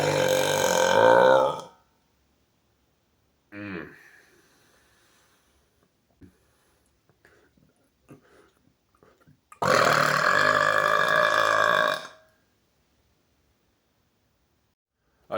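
Two long, loud burps, each lasting around two seconds, with a shorter burst and faint rustling between them.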